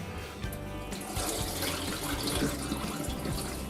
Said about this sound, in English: We're going to rinse our sushi rice.